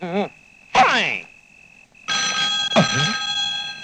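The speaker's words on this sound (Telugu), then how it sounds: "ఈ టైంలో ఫోన్ మోగుతుందంటే ఎవరితో ఎవరి కోసం ఫోన్ చేసి ఉంటుంది" Old telephone bell rings in short bursts in a comedy movie scene, loud and close, with a steady electronic tone running between rings and a voice speaking over part of it.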